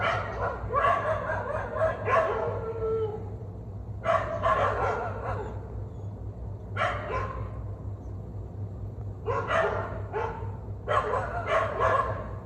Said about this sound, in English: I was woken up at 4:30 by barking dogs